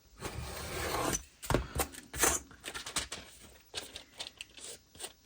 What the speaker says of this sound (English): I'm just going to trim that bit off there where I can see it.